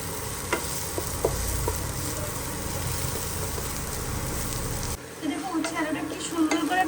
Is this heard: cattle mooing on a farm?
no